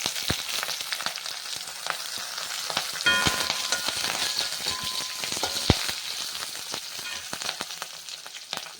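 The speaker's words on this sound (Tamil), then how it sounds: "இப்போ வெங்காயம் போடுவோம்" Onions frying in hot oil with curry leaves for a Chettinad beans stir-fry, a dense steady sizzle with scattered crackles and a few clinks of a spatula against the pan, heard up close.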